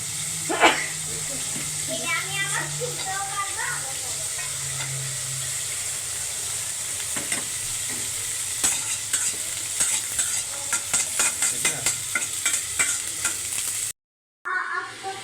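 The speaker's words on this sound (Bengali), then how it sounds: "শুকনো মরিচ বাগার দিবা" Dried red chilies fry and sizzle in hot oil for tempering in a home kitchen, a steady close crackle and hiss with bursts of spattering and stirring, while a voice speaks over it early on.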